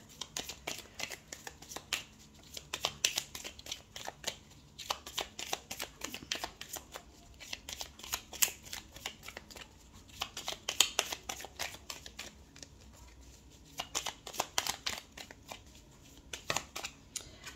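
Tarot cards being shuffled by hand, a long stretch of soft riffling and flicking bursts in irregular clusters, quiet and close, with no talk.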